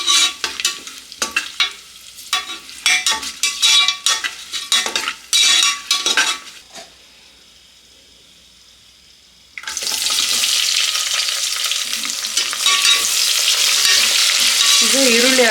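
Whole spices, star anise and fenugreek leaves frying in oil for egg biryani, with loud irregular scraping and clinking of a spoon against the pan. A short quiet gap is followed by a strong continuous sizzle.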